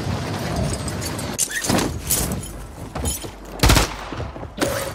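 Gunfire in the Modern Warfare 3 Warzone video game, with several sharp shots and bursts cracking over a busy, noisy battle ambience, one loud close report standing out near the end.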